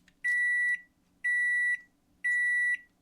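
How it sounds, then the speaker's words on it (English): A microwave oven warming meatloaf gives three evenly spaced electronic beeps, each about half a second long, clear and close against a quiet room. "You warm up the meatloaf in the microwave."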